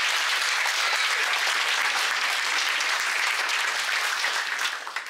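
A theater audience applauds steadily after a performance, a dense, sustained clatter of many hands that stays loud throughout and tapers only slightly at the very end.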